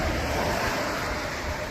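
Waterfall on the Sweat River near Highlands, North Carolina, a steady, dense broadband rush of falling water heard close and loud throughout, with no voices over it.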